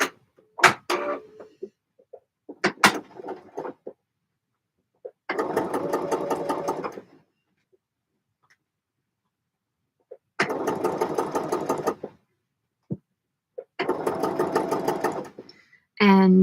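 A sewing machine stitching a jacket runs in three bursts of rapid, steady stitching, about two seconds each, separated by quiet pauses, with a few short clicks and knocks near the start.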